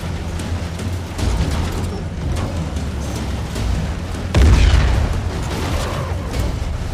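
Gunfire and explosions in the video game Uncharted: The Lost Legacy, scattered muffled pops and thuds over a low rumbling bed, with a heavier deep boom midway, mostly distant and continuous.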